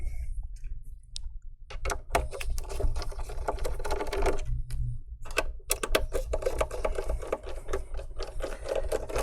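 Small screws being backed out of the underside of an HP cb1124 laptop during a teardown, heard as close, repeated sharp clicks and ticks in short bursts over a low steady hum.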